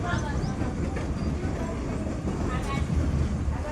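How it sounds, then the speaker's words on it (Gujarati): A steady, noisy rumble of a train rolling nearby at Dhari railway station, continuous and fairly loud, with faint squeals over the roar. "તો આવી ગઈ છે આપણી ટ્રેન"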